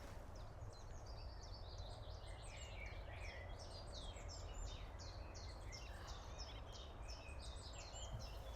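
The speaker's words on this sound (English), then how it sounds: "Just listen to these bird songs." Many birds sing and chirp continuously in a bright, busy chorus, with overlapping high trills and whistles over a low, steady outdoor hum.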